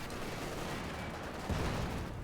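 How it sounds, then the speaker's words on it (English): A pack howitzer fires during a Company of Heroes 2 battle, one dull heavy boom rising out of steady rumbling battlefield noise and scattered small-arms fire. "Pack howitzer firing away."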